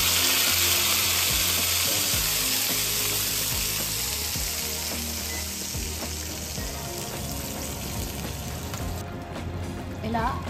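Green chili and garlic paste sizzles as it hits hot tempering oil, a steady loud frying hiss that settles over time, with a voice talking over it.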